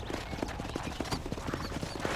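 A horse's hooves clip-clop in a steady trotting rhythm at moderate volume in the Red Dead Redemption video game, with soft background ambience.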